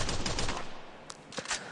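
Short bursts of gunfire in the battle royale game Free Fire, faint and crackling, with a few separate shots after a brief lull.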